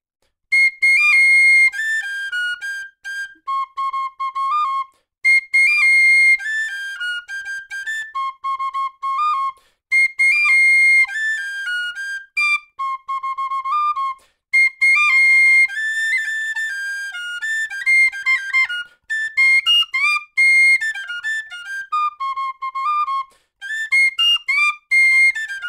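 A solo tin whistle plays a song's tune, bright, clean notes in quick repeated phrases separated by short pauses, close and alone.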